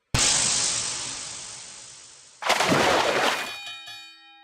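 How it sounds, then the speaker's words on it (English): A bell in the game Ginka strikes twice, each loud metallic ring decaying slowly, the second with clearer lingering tones fading into silence. "I can hear the sound of a bell in my head."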